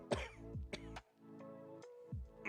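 Several short, raspy coughs and throat-clearing bursts come in a quick irregular series, close up and fairly quiet, with a slight hum between them.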